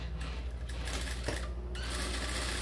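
A sewing machine runs steadily while topstitching a jungle hat, giving a continuous close whirring mechanical drone with only slight shifts in pace and no talking.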